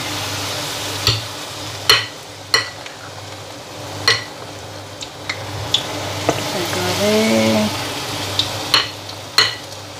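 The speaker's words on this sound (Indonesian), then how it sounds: "Kita goreng." Bakwan fritters sizzle steadily in a hot pan while a utensil scrapes and clinks against it several times at irregular intervals.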